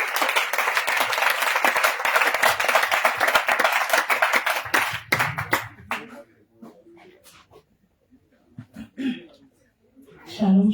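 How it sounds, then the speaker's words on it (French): At a church testimony festival, a congregation claps loudly and steadily in acclaim of the Lord, then the applause fades within about six seconds into scattered claps, taps and a brief voice. "Acclame le Seigneur pour ça."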